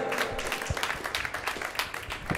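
A studio audience at a singing talent show claps in a dense, continuous spatter of fairly soft applause, with no voices over it.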